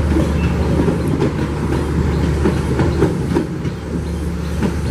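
The Commuter Line Garut passenger train runs along the track, a loud steady rumble with rhythmic clickety-clack of wheels over rail joints, heard close by and continuous.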